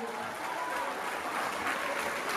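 Sustained applause from a concert crowd fills the space, a thick, even patter of many hands clapping that carries on without a break, with a faint murmur of voices mixed in.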